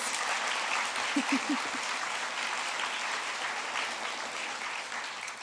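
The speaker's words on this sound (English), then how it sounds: "Let's give her a round of applause." Audience applause for a 7th-grade pianist at a middle school closing ceremony: a dense, steady wash of clapping from a crowd, sustained and even throughout.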